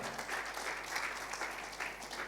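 Steady applause from a church congregation at a Sunday worship service, a dense continuous patter of many hands clapping throughout at moderate distance.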